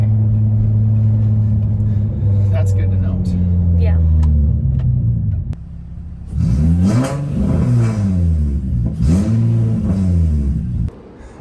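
A Nissan 350Z sits in a garage with its engine idling low and steady, then revving sharply in two rising and falling bursts. People talk over the idle.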